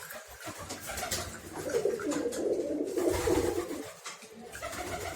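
Pigeons in a loft coo in a steady, rounded murmur that swells and fades over several seconds, with soft rustling around them and no talking.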